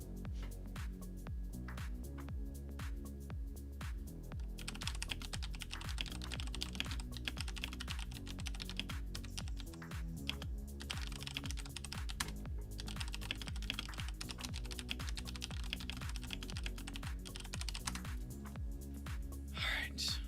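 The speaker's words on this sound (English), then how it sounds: "Hold on, I'm typing something." Rapid, continuous clatter of keys on a computer keyboard, typed up close and steadily for a long stretch, with faint background hum and no talk.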